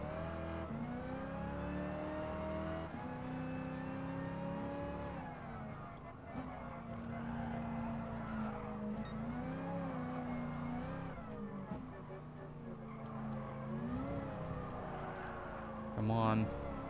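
A race car engine in Gran Turismo Sport revs and accelerates through repeated gear changes, its pitch rising and falling steadily over a long stretch while a voice talks over it.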